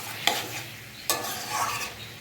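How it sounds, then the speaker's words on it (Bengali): Spices sautéing in a pan, with two sharp scraping strokes of a spoon over a soft, steady sizzle, close and fairly quiet. "একটু কষিয়ে নেব।"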